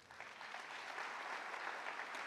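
A church congregation applauds, a faint, steady wash of clapping from a distance that swells slightly and holds for a couple of seconds, with no voices over it.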